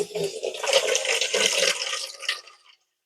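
Water runs from a frost-free hose bib into a bucket, a brief splashing rush that holds steady for about two seconds, then trails off and stops.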